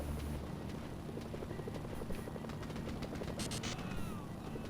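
A helicopter's rotor thrums steadily throughout in the video game Mercenaries: Playground of Destruction, with scattered gunfire-like pops and game effects layered over it, no talking.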